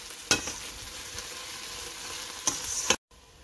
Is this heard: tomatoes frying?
yes